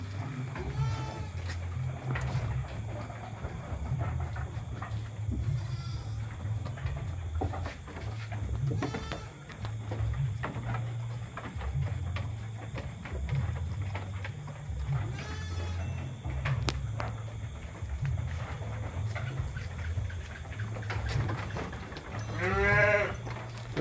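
Dorper crossbreed sheep bleat in a pen at night, several calls over a steady low hum, with occasional nearby animal movement and a loud close bleat near the end.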